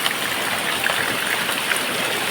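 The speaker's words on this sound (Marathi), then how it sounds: "तुम्ही पाऊस बघूच शकता किती जोरात आला आहे" Steady dense hiss of heavy rain pouring down, constant and fairly loud throughout with no voices.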